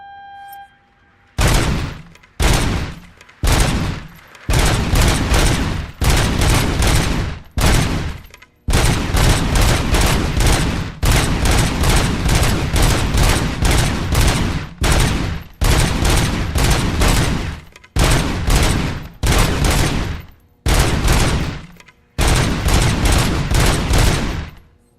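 Loud bursts of automatic gunfire from RoboCop in the video game RoboCop: Rogue City, a long run of sustained volleys broken by short pauses, with no talking.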